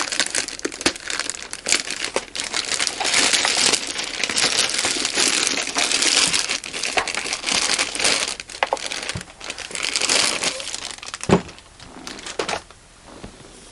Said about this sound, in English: Let's try to unwrap this.